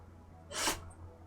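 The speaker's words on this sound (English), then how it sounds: "Bless you." A single sharp sneeze from a dog bursts out near the middle of a quiet game-room moment, loud and brief against a low steady hum.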